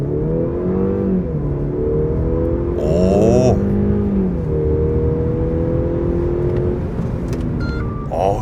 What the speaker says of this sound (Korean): 스포츠 플러스를 놓고 여기서 가속을 한번 해볼게요.